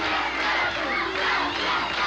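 A dense wrestling arena crowd roars and cheers steadily behind Jerry Lawler in a tag match, a loud, continuous wall of shouting voices with no clear break.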